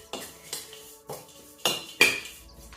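Protein ball ingredients with dried fruit being mixed in a bowl: five separate clinking scrapes of a utensil against the bowl at roughly half-second intervals, close and moderately loud, with no talking.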